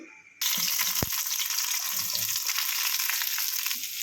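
Onion pieces frying in a pan, a steady loud sizzle that starts abruptly and continues evenly, with one brief sharp knock near the start.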